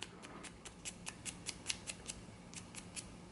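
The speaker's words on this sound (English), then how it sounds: "just letting the rigidity of the paper itself do the sanding." A small flap of 600-grit sandpaper rubs a rubber pipe stem in quick, even, faint scratchy strokes, about three per second, with no talk.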